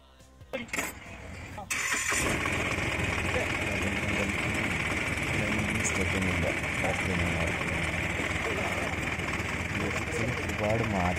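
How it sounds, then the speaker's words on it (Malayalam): A Piaggio Ape BS6 auto rickshaw engine cranks and catches after a few brief bursts, then settles into a steady, loud, close idle that runs without a break to the end. "എന്നിട്ട് ബാറ്ററി കണക്ഷൻ കൊടുത്തിട്ട് നമുക്ക് സ്റ്റാർട്ടാക്കാം."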